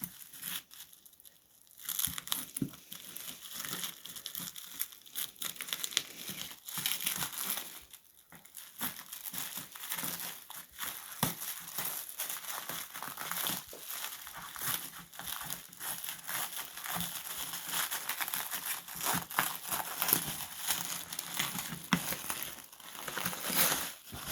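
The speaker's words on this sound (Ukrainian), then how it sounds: "Ось е, в такій упаковці приїхала хлібниця, обмотана целофановим пакетом. Розпаковуємо." Cellophane bag wrapping an Ardesto Gemini bread bin crinkles, tears and rustles continuously as it is pulled off, close and busy with brief pauses, no voices.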